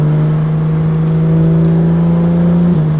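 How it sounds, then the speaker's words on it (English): A 2019 Porsche 911 GT3 of the 991.2 generation with a Fabspeed exhaust idles loud and close, a steady, even engine drone holding throughout with a slight dip near the end and no talk over it. "Now this one does have a fab speed exhaust on there."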